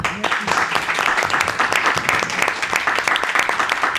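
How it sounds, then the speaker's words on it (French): Audience at an employment and entrepreneurship conference breaks into applause, a loud, dense wash of many hands clapping continuously, with some voices underneath. "Je vous demande de bien vouloir les applaudir."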